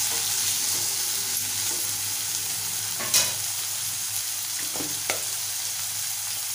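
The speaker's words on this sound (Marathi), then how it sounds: "परतून घेऊया।" Onion and finely chopped tomato sautéing in a pan for dal: a steady, even sizzle throughout, with a couple of faint spatula scrapes, close by and with no voices.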